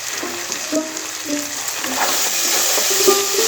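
Masala for a restaurant-style egg curry, with tomato, cumin powder, sugar and garam masala, stir-fried in a pan, giving a steady sizzle with repeated scraping strokes of the spatula, fairly loud and close with no talking.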